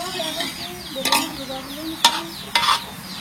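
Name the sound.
potatoes frying and being stirred in a pan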